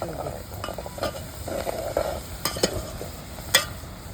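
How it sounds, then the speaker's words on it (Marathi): Onions fry in hot oil with a steady crackling hiss, broken by a few scraping stirs and sharp clinks of a spoon against the pan. "आता एकदम जबरदस्त तळतोय"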